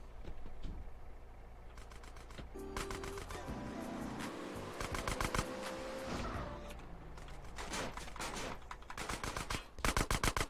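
Rapid gunfire aimed at the player in Grand Theft Auto: San Andreas, dense bursts of automatic shots rattling in clusters over engine hum and game noise, growing loudest near the end, with no talk.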